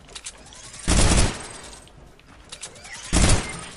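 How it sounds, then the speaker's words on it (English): Two loud sniper shots in Fortnite, each a heavy blast with a short rumbling tail, spaced a couple of seconds apart over quiet game background. "I got sniped practicing my edit."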